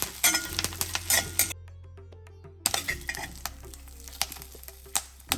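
Curry leaves roast in hot oil, sizzling and crackling in a pan as moisture cooks off, with a metal spoon stirring and clinking against it; the sizzle briefly cuts out, then resumes.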